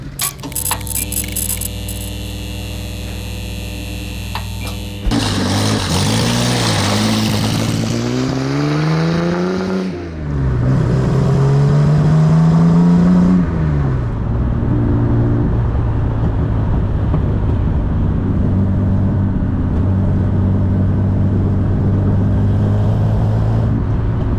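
A Cobra sports car's engine drives on the road, climbing through several rising revs and shifts early on, then settling into a loud, steady throaty cruise with no speech.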